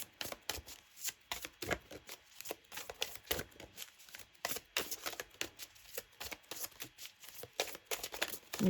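Oracle cards are shuffled by hand in a quiet room: faint, rapid, irregular riffling and soft tapping bursts repeat throughout, with no voices.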